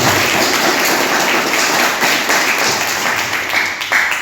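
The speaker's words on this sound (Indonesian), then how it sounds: "Tepuk tangan untuk kita semua." An audience at an Islamic boarding school report-card event claps hands together, a dense, loud, continuous burst of applause with a few sharper individual claps near the end.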